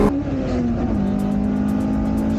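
A high-revving Honda engine with VTEC, driven on a mountain road, holds a steady, loud, singing tone close by, with a rising whine and no voices.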